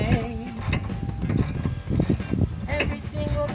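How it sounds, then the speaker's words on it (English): A wrench working on a car part gives a steady run of mechanical clicking and ratcheting, close and fairly loud throughout, with no voices. "Wrenching away, wrenching away."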